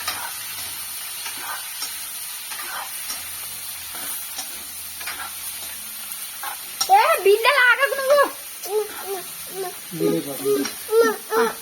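Chopped onion and green chili frying in a little oil in a pan for an onion egg fry, a soft continuous sizzle with stirring, and someone talking over it in the latter half.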